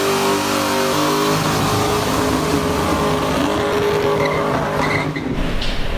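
Turbocharged Ford Mustang with over 1000 hp, engine revving loud and close, a rough, steady roar with shifting tones that fills the whole clip.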